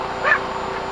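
A single short, muffled yip or bark from a Shar Pei in the back of a small aircraft in flight, brief and a little distant, over a steady low background hum.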